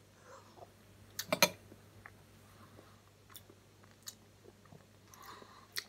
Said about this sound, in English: I'm chewing this mouthful of yogurt